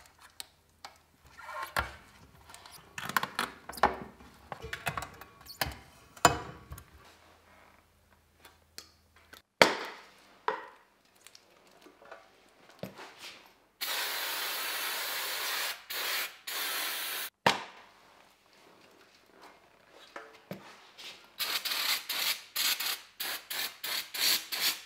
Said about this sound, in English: Now I just need to go around with a rag and give it a really good clean out.